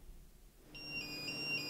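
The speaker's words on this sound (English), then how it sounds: "the buzzer started ringing" A programmable alarm clock buzzer sets off after a quiet moment, sounding a high pulsing electronic beep that repeats steadily and stays clear and close.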